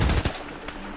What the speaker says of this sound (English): Notice the guy shooting at me.